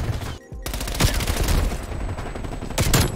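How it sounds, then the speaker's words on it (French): Rapid shotgun blasts in Call of Duty: Black Ops Cold War, a loud dense string of close shots overlapping each other with little pause, one brief dip early on. "moi aussi je peux tirer de loin en fusil à pompe"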